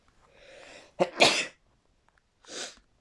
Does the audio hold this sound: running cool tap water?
no